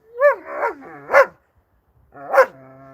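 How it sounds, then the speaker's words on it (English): A dog barks close by at night beside parked vans, three sharp barks in quick succession, a brief pause, then a fourth bark trailing into a whine, with no talking over it. "So you're going to have to sort of deal with the barking for a minute."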